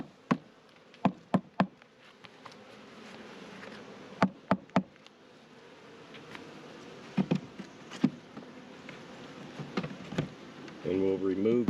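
Honeybees at an opened hive during an inspection, a low steady buzz running throughout beneath a series of sharp knocks and taps, with a denser, louder hum swelling near the end.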